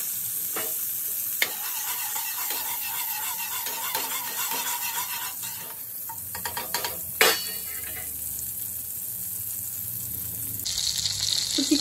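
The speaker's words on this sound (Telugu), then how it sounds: "చికెన్ వేస్తున్నాం ఫ్రెండ్స్. ఇందులో ఫ్రై చేస్తున్నాము." Chicken sizzles and fries in butter and pure peanut oil in a pan, a steady loud crackle with stirring and utensil scrapes, a sharp clatter partway through and a brighter hiss near the end.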